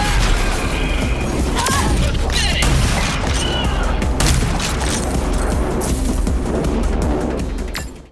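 Dense, continuous gunfire and booming explosions from the first-person shooter Rage 2, loud and sustained with rapid overlapping shots and impacts throughout.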